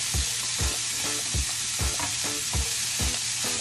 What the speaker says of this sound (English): And I'm gonna give that a stir.